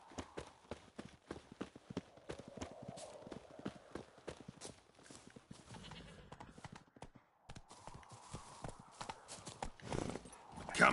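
Roach, the horse in The Witcher 3 video game, gallops with rhythmic clip-clopping hoofbeats throughout, briefly pausing before resuming, while a voice talks over the game sounds.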